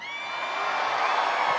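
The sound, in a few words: rally crowd cheering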